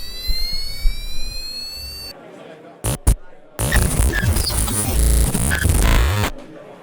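A buzzer driven by an Arduino and an RGB LED project plays a police alarm siren, giving loud electronic sweeping tones in bursts, with a rising tone first, a pause, two short blips, then a long harsh wailing stretch.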